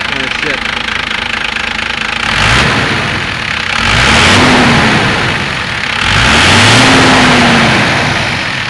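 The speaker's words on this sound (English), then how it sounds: "Idle's a little low right now. I turned her down." A 1993 Cummins turbo diesel pickup engine used in truck pulls runs near at a low idle, with a rough knocking rumble and two slow revs that rise and fall, each swelling with a whining tone.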